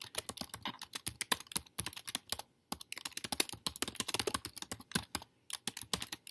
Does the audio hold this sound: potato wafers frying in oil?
no